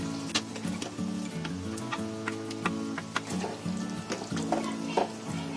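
Paneer cubes go into a masala cooking in a pan, giving a steady sizzle and frying hiss with scattered ticks and clinks of utensils, beneath a constant tonal background hum.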